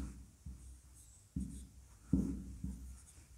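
A hand writing a word with a pen or chalk, four or five faint scratchy strokes spaced out in a quiet room.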